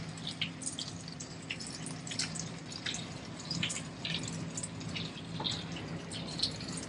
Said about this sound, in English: Let it simmer